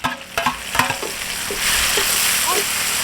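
Onion, tomato and garlic sauté in a pan for a field-crab thokku: a few sharp utensil clanks at first, then a hissing sizzle that swells and holds steady up close.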